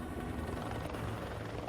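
A helicopter in flight gives a steady, muffled rotor chop and engine drone, faint and brief.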